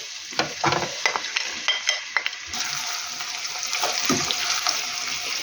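Continuous crackling sizzle of onions frying in hot oil for topping varenyky, with a few sharp stirring clinks near the start and no voices.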